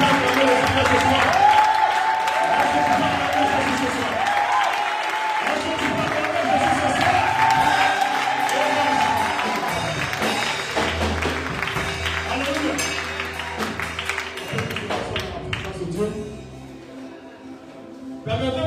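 A church congregation at an evening vigil applauds and cheers to acclaim the Lord, a dense, loud wash of clapping and crowd voices that holds steady and then thins toward the end.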